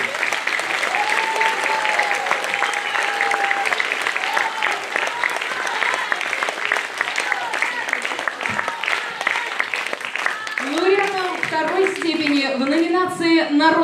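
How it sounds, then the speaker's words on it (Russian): Audience applause at a folk song festival gala concert: sustained, loud clapping from a large crowd throughout, with a voice speaking over it toward the end. "А сейчас давайте похлопаем и скажем всем участникам большое спасибо"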